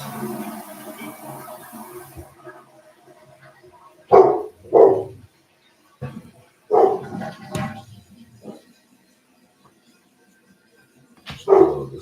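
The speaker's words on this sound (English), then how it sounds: "Dog is always freaking barking." A house dog barks in several close, loud bursts, single and paired barks separated by quiet gaps, after a murky stretch of low room noise at the start.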